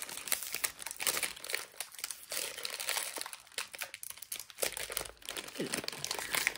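Sealed plastic packaging from a gingerbread house kit being pulled open up close, with loud crinkling and crumpling in uneven bursts.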